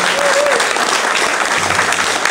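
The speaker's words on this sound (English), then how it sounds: "I think we owe them all a round of applause." Audience applause fills a room after a candidates forum, a loud, dense, continuous clapping from a crowd that holds steady throughout, with a voice briefly audible over it.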